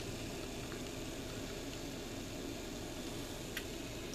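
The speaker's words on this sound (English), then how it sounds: "you can hear the coffee starting to come to a boil there" Coffee heating to a boil in a Swiss Army canteen cup over a camp stove, a steady low hiss and faint bubbling rumble, with no voices.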